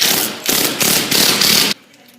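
A power driver runs screws into a wooden support block beneath an island range hood, giving several loud, buzzing bursts of whirring with brief pauses between them before stopping abruptly.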